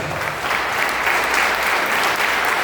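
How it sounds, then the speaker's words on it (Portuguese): A church congregation applauding loudly and steadily, a dense wash of many hands clapping close by with no pauses. "Vamos aplaudir a Jesus de forte."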